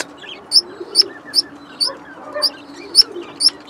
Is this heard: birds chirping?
yes